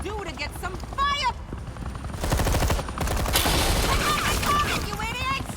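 Bursts of automatic gunfire in Batman: The Enemy Within crackle loudly in the middle stretch, with voices talking before and after the shooting.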